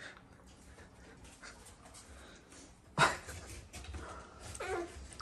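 A dog whimpers softly and pants while being fed, faint and close, with a sudden louder bump partway through.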